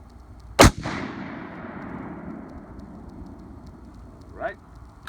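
A 7mm-08 rifle with a 20-inch barrel fires a Nosler 120 grain ballistic tip bullet: one loud, close blast followed by a long rolling echo across open ground, then quiet outdoor ambience.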